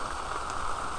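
Steady rain falls in a dense, even patter around a house in rural Thailand, filling the brief moment with an unbroken wash of close droplets and no voices.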